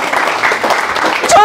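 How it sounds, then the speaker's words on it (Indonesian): Congregation at a church service clapping and cheering, a dense crowd wash of applause and voices that swells near the end. "Berikan sorak-sorai."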